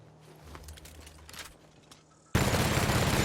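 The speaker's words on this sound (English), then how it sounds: "I wanted to try out this machine gun." Machine gun in The Outer Worlds opening up after quiet game ambience with a few faint clicks, then a loud, dense burst of continuous automatic fire filling the last second.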